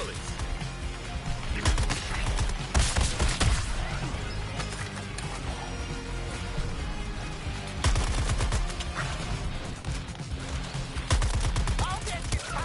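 Gunfire from a Suicide Squad: Kill the Justice League video game fight rattles almost nonstop, with bursts and impacts layered over game music and effects, loud and busy throughout, while a character's voice speaks over the action.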